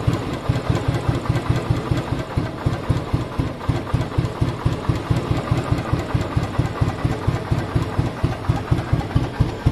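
A single-cylinder UCE motorcycle engine with a manual decompressor idles at very low RPM, a close, steady, evenly spaced thumping beat that continues without break and has no voices over it.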